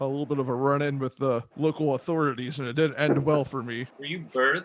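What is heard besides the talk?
No everyday noises stand out.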